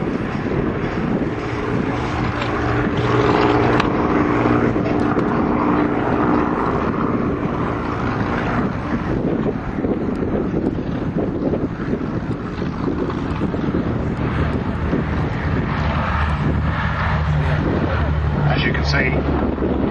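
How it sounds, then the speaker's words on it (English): At the Duxford airshow, a Boeing B-17G Flying Fortress takes off with its propeller engines giving a loud, sustained drone, while a commentator talks over the roar and wind buffets the microphone. "And following them into the air, the great Duxford favourite, resident here now for 35 years, the Boeing B-17G Flying Fortress named Sally B."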